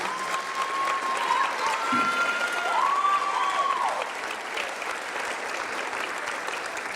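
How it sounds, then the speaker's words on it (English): An audience claps steadily at a Rotary scholarship night, a dense even round of applause in a hall, with a brief voice or tone rising over it before the clapping gradually thins out. "A round of applause for that number."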